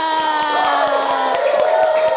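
Elementary school pupils in a classroom clap in a fast, even rhythm for a group while high children's voices cheer and shout over the claps.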